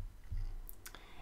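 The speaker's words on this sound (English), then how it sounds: "I'm going to open up the search settings by clicking here" A computer mouse click while opening search settings in a research app, two or three small, faint, quick clicks close together over low background hum.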